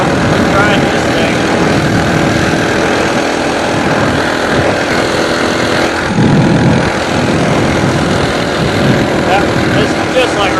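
A Coleman mini bike engine running steadily while being ridden, a loud continuous buzzing drone with wind noise throughout, and a voice talking over it.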